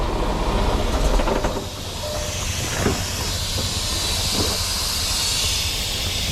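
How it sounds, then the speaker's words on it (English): Air leaks from the air ride valve on a Freightliner truck, a continuous close hiss with a few faint clicks and knocks in the background. "It's not the airbag, it's the air ride valve leaking"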